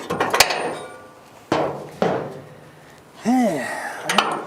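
Metal ratchet clanks and clicks against a pulley bolt on an old 1957 Dodge Sweptside D100 engine, several sharp metallic hits spaced apart, with a squealing creak near the end.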